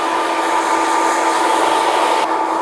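A hair dryer with its nozzle attached, running on high speed and high heat while a men's haircut is dried back, giving a loud, steady close whine and rush of air that is cut off near the end.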